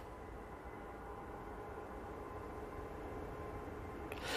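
Continuous jet engine roar from an EasyJet airliner on its takeoff roll at Manchester Airport, heard from a distance, steady and building slightly toward the end.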